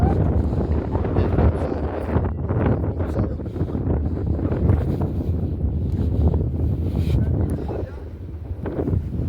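Steady outdoor wind rumbles and buffets the microphone throughout at a Hanuman temple, a continuous broadband roar with no clear pauses.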